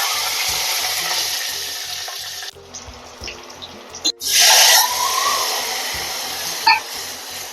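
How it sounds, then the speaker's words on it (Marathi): Oil heating for a Marathi phodni tempering for dal baati, with a steady frying sizzle that swells loudly near the middle as spices hit the oil, alone with no talk. "तर इथे आपण फोडणी करूया त्यासाठी मी थोडस तेल घेतलं आहे"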